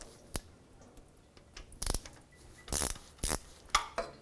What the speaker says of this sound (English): I'm just going to start breaking free all 15 pan bolts